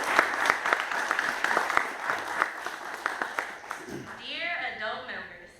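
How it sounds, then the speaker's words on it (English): An audience at a closing ceremony claps for parents, guardians and caretakers, with sharp, fairly close claps at first, thinning into scattered applause as a voice and other sounds take over toward the end. "I would like to take a second to give our parents, guardians, and caretakers a hand clap."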